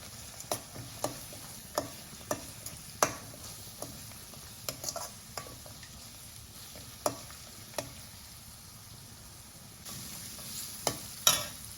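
Curry leaves fry in a pan for a festival prasadam dish, with a soft, steady sizzle under a series of sharp clicks and scrapes from stirring, close and fairly quiet, no voices.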